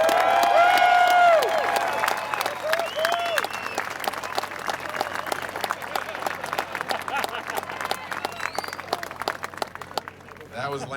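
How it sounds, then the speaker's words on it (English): A crowd at a USO tour show in Baghdad applauds and cheers for Lance Armstrong, starting with loud whoops and shouts over dense clapping, then settling into sustained, slightly thinning applause that fades near the end. "Give me a big round of applause for Lance Armstrong"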